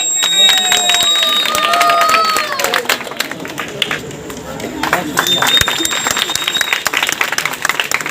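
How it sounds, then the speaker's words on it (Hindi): An audience at a public welcome ceremony claps loudly in a sustained round of applause, mixed with crowd murmur and announcements over the clapping. "आप लोग जोरदार तालियों से उनका इस्तकबाल करें।"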